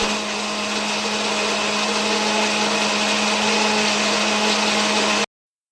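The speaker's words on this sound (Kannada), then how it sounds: "ಹಸಿಮೆಣಸಿನ್ಕಾಯಿ, ಕೊತ್ತಂಬರಿ, ಪುದೀನ, ಸೋಂಪು ಕಾಳು, ಮೆಣಸು, ಏಲಕ್ಕಿ, ಚಕ್ಕೆ ಎಲ್ಲ ಹಾಕ್ಕೊಂಡು ರುಬ್ಕೋಬೇಕು" A mixer grinder runs steadily, whirring loud and close as it blends green chilli, coriander, mint, fennel seeds, pepper, cardamom, cinnamon and a little water, then it stops abruptly near the end.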